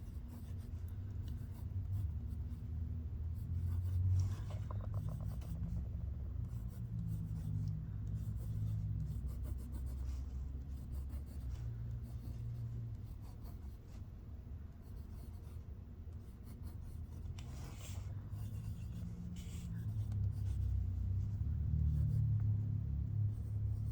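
A TWSBI fountain pen writes on paper with a steady, close, soft scratching of continuous strokes and brief pauses, gliding smoothly for the whole stretch with no one talking.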